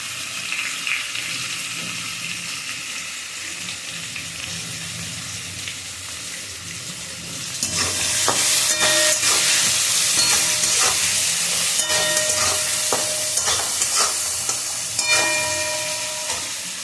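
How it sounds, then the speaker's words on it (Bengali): Onion and tomato fry in a pan with a steady sizzle, which grows louder and brighter after the vegetables go in, with intermittent scraping stirs repeating close by and no talk. "ভাজতে ভাজতে মধ্যে পেঁয়াজটা দিয়ে দিচ্ছি। সব একসঙ্গে ভাজা ভাজা হবে।"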